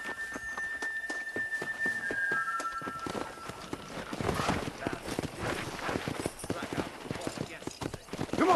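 Horse hooves gallop steadily in Red Dead Redemption, quick clip-clop beats that build and stay close throughout, with voices talking over the ride.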